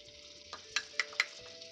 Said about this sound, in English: Hear that sizzle? That's a good sign.